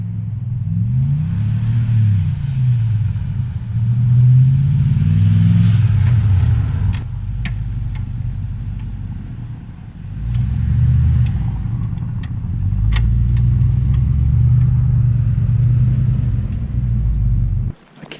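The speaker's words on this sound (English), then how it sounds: "We'll see what this truck can do in the snow." A four-wheel drive truck with an empty, unweighted bed drives through snow, its steady engine rumble rising and easing as it pushes forward, with brief crunching clicks, close and continuous for most of the stretch before cutting off.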